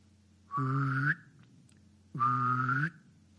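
A person imitating a drake mallard duck call with their mouth: two drawn-out nasal honking calls separated by a short pause, close and clear.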